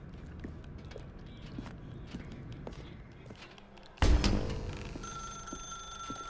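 A telephone in the video game The Stanley Parable starts ringing abruptly after a stretch of soft footsteps and room tone, its bright electronic tone sustained and fairly loud over a low rumble.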